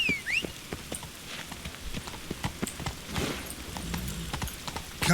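Horse hooves clip-clopping in The Witcher 3 video game, a steady walking rhythm of clear, close hoof strikes with faint rain-like patter behind.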